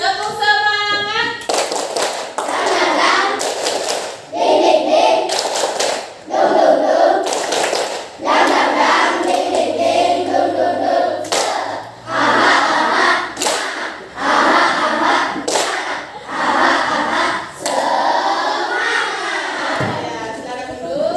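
A class of primary school children stands and performs a rhythmic group clapping routine, bursts of sharp claps in patterned sets with chanting voices, loud and close, over about twenty seconds.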